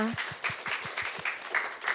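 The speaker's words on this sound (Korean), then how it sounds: "박수 부탁드립니다" Brief applause at a Bechdel Day film event, a few distinct claps in a loose rhythm, fairly close and moderately loud, with a voice speaking briefly at the start.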